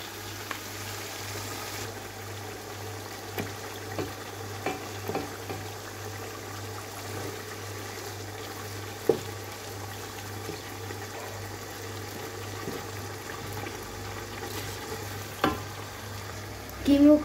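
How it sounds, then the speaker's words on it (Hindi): Chicken keema frying in a pan gives a steady, quiet sizzle, with occasional clicks and taps from stirring scattered through it. "अभी हम चिकन कीमा डाल के इसको भून लेंगे।"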